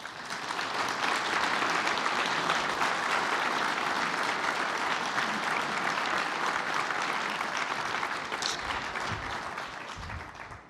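A conference audience at a 2020 Ontario roads association gathering applauds a speaker with a long, even wave of clapping that stays full for about ten seconds before gradually tapering off.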